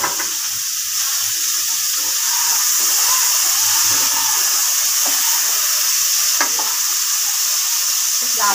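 Potatoes deep-frying in hot oil, a loud dense continuous hiss and sizzle close up, with a few faint clinks of a utensil against the pan and no talking.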